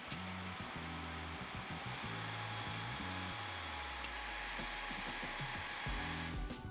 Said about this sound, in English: this is what the device sounds like under full load